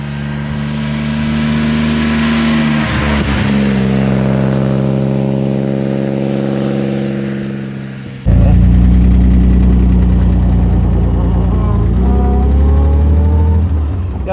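The engine of a 1938 Alvis Speed 25 pulls hard uphill in third gear with a loud, close, droning roar. It rises in pitch, dips briefly partway through, then picks up again and revs higher under load.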